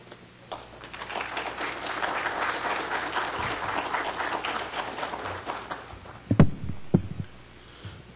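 Audience applause welcoming a speaker to the podium at a Brazilian public procurement seminar, a steady dense clapping that fills the room for several seconds, then thins into a few scattered, louder claps near the end.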